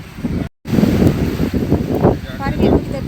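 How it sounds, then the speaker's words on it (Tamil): Strong wind blows across a beach where fishermen work, buffeting the microphone in loud rumbling gusts with a brief dropout, while voices talk underneath. "காற்று பயங்கரமாக அடிக்குது"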